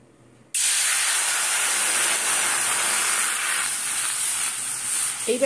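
Water poured into a hot kadai on a gas stove sets off a sudden loud, steady hiss that starts abruptly and holds strong without a break, close up with no talk.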